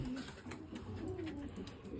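Pigeons in a breeding loft coo softly in low, rolling calls, repeated several times beneath a steady background hiss, with no one talking.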